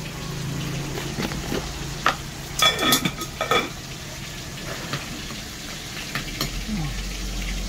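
Garlic and ginger with salt frying in a pan, a soft steady sizzle under clattering scrapes and taps of a utensil stirring against the pan in a cluster of strokes, close and moderately loud.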